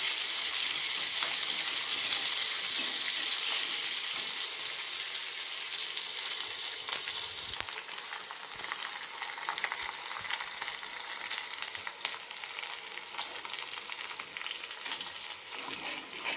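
Green chillies and curry leaves fry in hot oil for dal khichdi, a loud, close, continuous sizzle that eases slightly after the first few seconds, with occasional stirring crackles and no talk.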